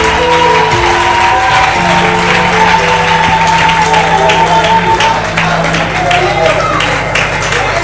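A church congregation applauds the Lord in steady, dense clapping that fills the space, with a crowd voice and tones carrying underneath throughout.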